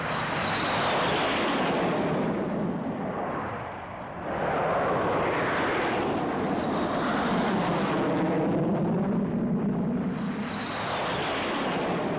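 Display aircraft at the 1976 Farnborough air show roar overhead in a loud, continuous engine rush that swells, dips briefly and builds again as they pass.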